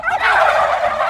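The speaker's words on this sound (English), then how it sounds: "We're here with the turkeys," A free range turkey on a Lincolnshire farm lets out one loud, close gobble, a brief warbling call with no talk over it.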